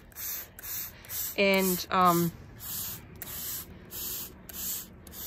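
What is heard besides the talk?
spray bottle spraying onto paper for coffee dyeing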